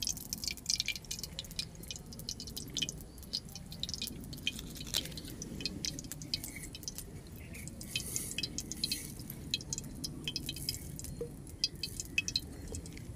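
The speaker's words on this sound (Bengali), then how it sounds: "কড়া গরম হয়ে গেছে, কড়ার মধ্যে তেল দিয়ে দেব।" Oil goes into a hot kadai, giving soft dripping, trickling and faint crackling sounds with light clinks, quiet and close with no talking.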